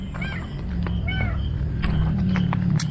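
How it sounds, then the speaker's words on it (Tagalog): A cat meows near a bridge, two or three short rising mews in the first second followed by quieter cries over a low outdoor rumble and faint scrapes. "Kawawa naman tong pusa na to."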